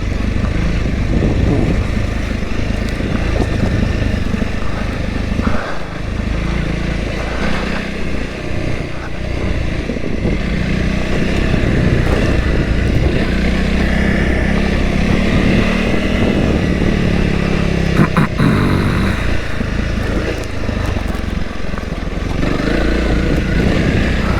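A Honda CRF300L Rally motorcycle is ridden over rough ground, its engine droning loud and steady throughout with wind noise and small shifts in pitch.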